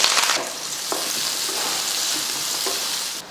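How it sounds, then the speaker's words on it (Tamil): Onion and curry leaves hit hot sesame oil in a kadai, raising a loud, close, continuous sizzle with a few stirring scrapes. "ஒரு பக்கம் கடாயை வச்சுட்டு இது போல் நல்லெண்ணெய் ஊற்றிக்கலாம் எண்ணெய் காஞ்சதுமே ஒரு பெரிய வெங்காயமும் அப்புறமா கொஞ்சம் கருவேப்பிலையும் சேர்த்துடலாம்"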